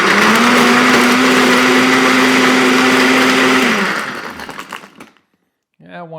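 A blender whirs loudly and steadily for about four seconds while mixing a Missionary's Downfall tiki cocktail, then winds down and stops; a voice speaks briefly afterward.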